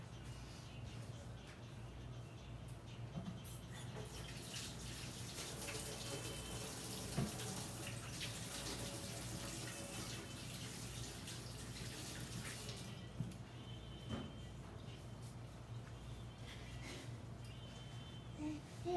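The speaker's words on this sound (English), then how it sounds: "I don't want to touch nothing with this on my hands, so I'm gonna go wash my hands right quick" Steady rush of water from a kitchen tap while hands are washed during meatloaf preparation, continuous and close with small splashy variations throughout, no voices.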